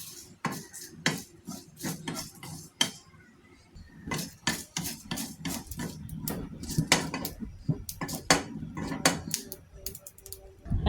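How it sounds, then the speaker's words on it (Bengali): Bay leaves and cumin seeds fry in a pan for a Bengali chicken and greens dish, heard as a steady run of sharp clinks, scrapes and taps of utensil against cookware over faint sizzling, moderately close with no talk. "এখানে তেজপাতা আর সামান্য একটু জিরে ভেজে নিচ্ছি"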